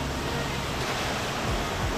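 Waterfall on a mountain hike near Koričanske stijene on Vlašić, a dense, loud, continuous rush of falling water that fills the whole clip with no pauses.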